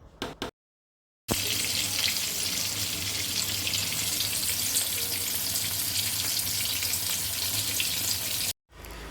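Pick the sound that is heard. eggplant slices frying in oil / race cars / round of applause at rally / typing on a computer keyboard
eggplant slices frying in oil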